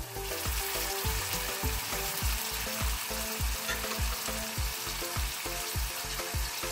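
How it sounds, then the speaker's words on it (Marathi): Tomatoes and onion fry in oil in a pan for a Karnataka vegetable sagoo, a steady loud sizzle running throughout with a regular thumping rhythm under it. "टोमॅटो पण परतायचा"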